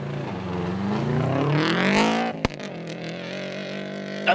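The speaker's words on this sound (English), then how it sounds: "Doesn't that car just sound fantastic?" A rally car's engine screams as it climbs through the revs and rushes past close by at speed, followed by a sharp crack and a fading, lower drone.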